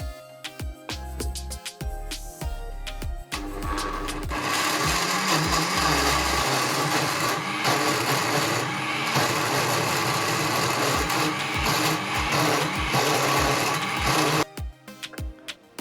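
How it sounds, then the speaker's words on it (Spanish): A countertop blender whirs steadily as it blends a sweet corn mixture with condensed milk for Peruvian sweet humitas, a loud continuous motor drone after a few short bursts at the start, close up with no voices. "Lo vamos a licuar ligeramente, que no quede muy líquida."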